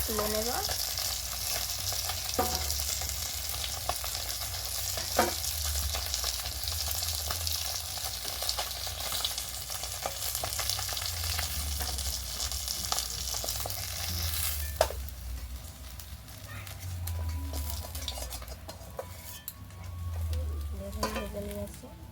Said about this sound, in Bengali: কই মাছগুলো আমার ভাজা হয়ে গেছে